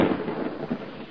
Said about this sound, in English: And then one night, there was a terrible storm.